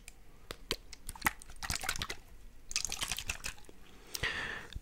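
Water from a small bottle wets hair during a haircut, heard as close, soft drips and splashes with crackly spraying bursts, loudest in the final second.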